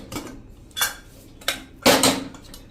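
A pressure cooker lid being opened after boiling rajma: four metallic clanks and scrapes of lid against pot, close and spaced out, no talking.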